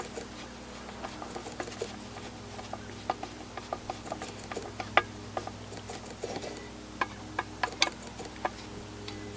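A fitting on the mass airflow sensor of a 2013 Honda Accord's aftermarket Takeda intake is tightened, producing quiet, irregular ratchet-like ticks and clicks over a steady low hum, close and fairly faint.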